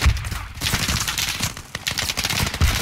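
Rapid bursts of gunfire from a military shooter video game crackle densely and loudly, overlapping volleys with sharp repeated cracks throughout and no clear speech.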